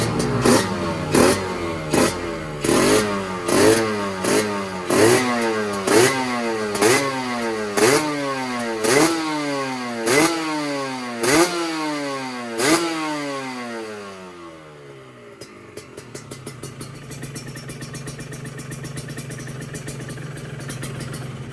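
Kawasaki Ninja SSR 150 two-stroke fitted with a Taiga aluminium silencer, revved in a series of sharp, loud blips that rise and fall about every second, then settling to a rough, popping idle.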